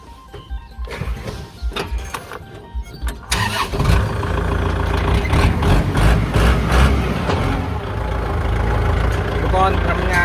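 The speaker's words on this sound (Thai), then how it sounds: "เดี๋ยวเราลองมาสตาร์ทเครื่องยนต์ดูนะครับ" A used Kubota L5018 tractor's diesel engine cranks and catches after a few seconds, then settles into a loud, steady rumbling idle close by.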